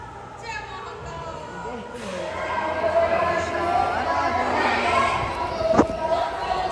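Crowd of pilgrims at Mahakaleshwar temple in Ujjain, a steady murmur of many voices and shuffling close around, with a person speaking over it and a sharp knock near the end.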